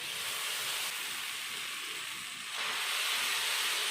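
Dosa batter hitting a hot tava for instant tomato-onion dosa, a steady broad sizzling hiss that swells louder near the end, close and continuous with no talk.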